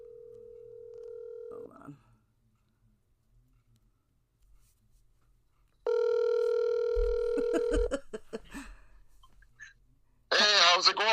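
A phone call being placed, with a steady tone heard twice as short bursts separated by silence, followed by faint clicks, and brief talk closing the clip.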